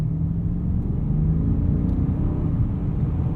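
A 2023 BMW 760i xDrive cruises along a road, with a low steady engine and tyre rumble and outside wind noise coming through a cracked-open window, continuous and fairly loud, with no talk.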